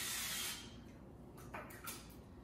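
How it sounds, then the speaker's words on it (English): Cooking spray hisses onto a baking sheet pan in a steady burst for about half a second, followed by fainter shorter puffs, close and quiet with no talk. "Put a little cooking spray on your baking sheet pan"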